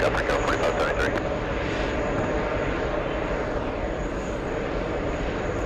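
A fixed-wing airliner rolls for takeoff on runway 22 right at LAX, a broad, steady engine roar that holds loud and unbroken throughout, with a few brief clicks near the start.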